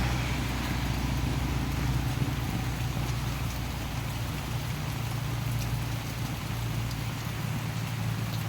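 Steady, heavy rain falls during flooding in Monkayo, Davao de Oro, a dense, unbroken hiss of drops on surfaces with a low rumble underneath and no talking.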